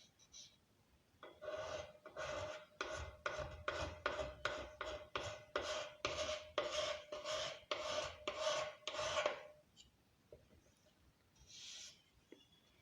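A blade scrapes marquetry wood along the grain ahead of varnishing, a run of about fourteen steady, rasping strokes in quick rhythm, close and clear, then a pause with one last faint stroke.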